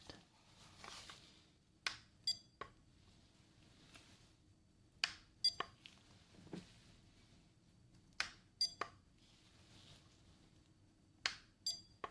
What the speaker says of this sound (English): I want you to tell me when you hear that little beep